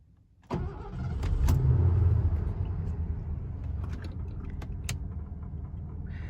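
A 1986 Mercury Grand Marquis with a 302 V8 cranks and catches, then settles into a steady, smooth low rumble close by, with a few light clicks and taps over the running engine.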